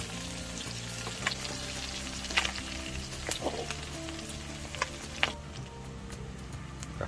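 Small fish fry in hot oil with kaffir lime leaves and garlic, a steady close sizzle and bubbling hiss with occasional sharper pops and light clinks throughout.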